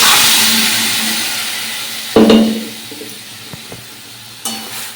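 Boiled peas fry in a sautéed spice paste seasoned with salt and turmeric, giving a loud, steady sizzle that eases off, broken by a sharp clatter of stirring and a few light knocks.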